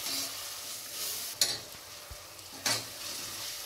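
Ginger garlic paste fries with chicken in a pressure cooker, a soft steady sizzle punctuated by two clinks of a stirring spoon against the pot, with no voices.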